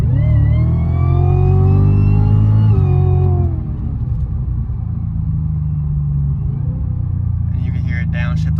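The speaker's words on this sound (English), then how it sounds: "you can hear it downshift on its own, again, to help with the supercharger" A supercharged Cadillac CTS-V accelerates hard on a track, its engine note climbing loudly before an automatic downshift drops the pitch, then settling into a lower drone.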